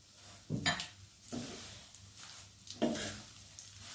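Vermicelli frying in butter and ghee in a pan: a soft, steady sizzle broken by a few sharp clinks and scrapes of a utensil stirring against the pan, quiet and close.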